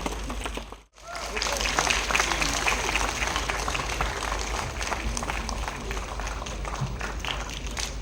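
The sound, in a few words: audience applause welcoming dignitaries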